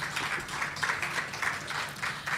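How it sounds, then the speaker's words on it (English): A graduation audience applauds steadily, a broad wash of many hands clapping in a sustained, fairly even stream at moderate distance. "So you all give yourselves a round of applause."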